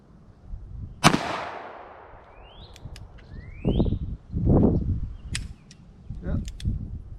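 A Ruger New Vaquero revolver in .45 Long Colt fired outdoors on a hot, humid day: one loud, sharp report with a ringing decay, followed by lighter clicks and handling noises, with brief voices in between.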